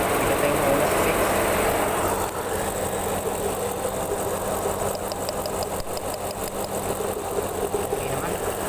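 A car engine idles with an ignition coil unplugged, producing a misfire. The idle is a steady, close, continuous rumble with a slight uneven knock, and a faint voice sits underneath.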